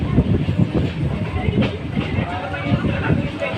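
A train rolls into Nathdwara station, a loud, continuous low rumble with rhythmic clatter of wheels on track, heard up close from on board.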